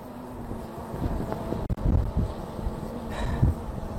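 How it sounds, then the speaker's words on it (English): Strong outdoor wind blows across the microphone in continuous low rumbling buffeting, with a few sharper gusts and brief dropouts. "Wow, yeah, this wind, my goodness, it is pushing everything bad."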